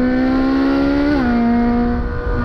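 A Ferrari 488 Pista Spider's turbo V8 gives a deep, steady bellow, holding a sustained note, rising slightly before dipping, loud and close with no talking.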